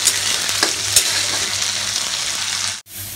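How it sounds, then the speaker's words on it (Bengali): Soaked chickpeas fry with browned potatoes in a pan for a vegetarian dish. A loud, continuous close sizzle runs throughout, with a few light stirring clinks and a brief dip near the end. "আবার খুব ভালো করে ভাজব।"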